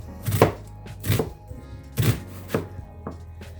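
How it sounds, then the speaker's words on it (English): A knife chops through an onion on a board in four or five slow, separate thuds with pauses between them, close and clear with no talking. "I'm going to cut this onion up and see how much I can get on this tray"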